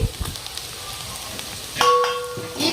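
Vegetables for veg noodles frying in a pan, a soft close sizzle with scattered clinks and scrapes and a brief thin metallic ring partway through.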